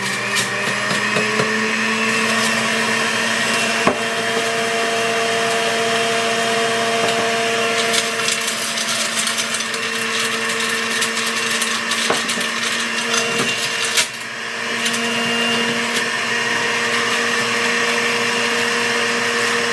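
Electric juicer grinding through spinach, a steady high motor whine with occasional knocks and clatters as leaves are pushed in, running continuously and close.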